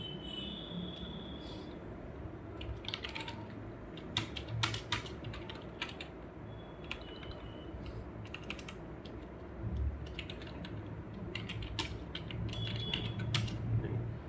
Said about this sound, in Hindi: तो चलिए दोस्तों यहाँ पर टेक्स्ट को लिखना स्टार्ट करते हैं।